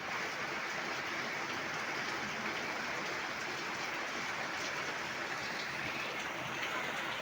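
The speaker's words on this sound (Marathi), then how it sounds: "बघू शकता पाऊस किती पडतोय" Heavy monsoon rain pours down steadily outside during a stormy May in the Konkan region, a dense, unbroken hiss with no pauses or speech.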